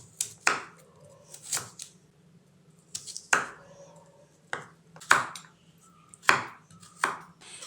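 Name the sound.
chopping vegetables for raw mango salad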